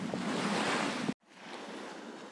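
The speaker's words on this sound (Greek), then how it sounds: "δεν ξέρω αν ακούγεται ο αέρας" Wind blowing on the coast at Kavala during full-moon night fishing, a dense roaring rush buffeting the microphone, cut off abruptly midway and then resuming slightly softer, with no voices.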